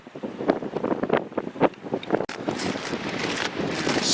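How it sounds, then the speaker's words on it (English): Strong cold wind blowing by a river in winter, loud gusty rushing and buffeting against the microphone, with irregular thumps early on and a steadier roar later. "Oh my god, this wind."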